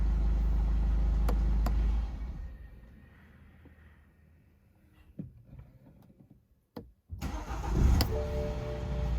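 A BMW 120d diesel runs loudly up close, then is shut off, leaving near-quiet with faint clicks before the engine cranks and fires again, ending in a rising, steady diesel running sound.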